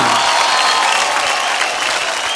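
Dense, steady applause from an audience greeting Salman Khan at a Bollywood event, filling the whole stretch evenly and loudly without a break.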